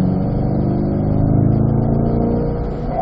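Corvette engine pulls steadily under acceleration out of a corner at Spring Mountain race track, a loud, continuous mid-pitched roar heard from close inside the car with no talk.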